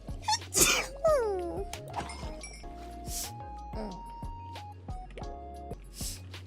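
A human sneeze, sharp and close, bursts out early, followed by squeaky, pitched vocal noises and clinks in an indoor setting, with no clear speech.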